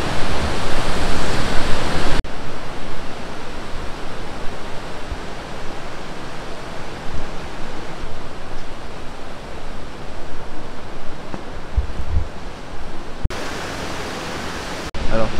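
The Ouzoud waterfalls in Morocco, about 120 metres high, roar as a steady, dense wash of falling water, loud and close, with a few abrupt cuts in the sound.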